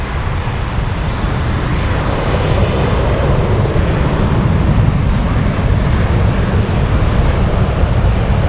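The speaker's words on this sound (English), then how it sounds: "Rolling takeoff." A jet airliner on a rolling takeoff at Frankfurt airport, a loud, continuous broadband engine roar with heavy low rumble and wind buffeting, steady and building slightly over the whole stretch.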